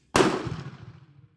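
A single close, sharp shot from a CZ 70 pistol firing a reloaded round, with a sudden loud crack that rings and decays over about a second.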